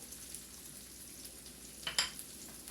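Ginger sautéing in a hot pan for stir-fried rice cakes with beef and greens: a soft, steady sizzle, then a brief louder stir-and-scrape burst near the end.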